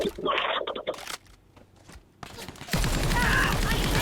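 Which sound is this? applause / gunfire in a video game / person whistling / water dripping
gunfire in a video game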